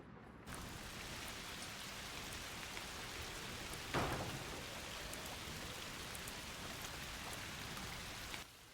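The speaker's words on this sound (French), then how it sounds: "Saleté de pluie." Rain falls steadily in a video game set by the edge of a forest, a dense continuous patter at even level, with a short louder splash or rumble near the middle and no voices.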